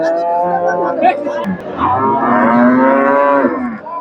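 A large dairy cow at the busy Chandaikona cattle market in Bangladesh gives a loud, drawn-out moo close by, with a second lowing call following, over faint crowd chatter.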